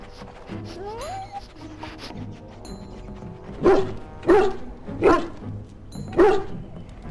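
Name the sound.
dog barking in video game Dragon Age: Origins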